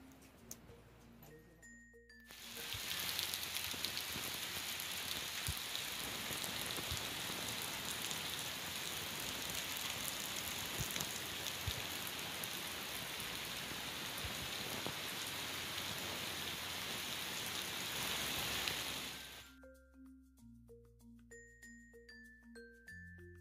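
Steady, dense rain pattering on a surface, loud and continuous for most of the stretch, then cutting off abruptly to a quieter backdrop with a few soft tones.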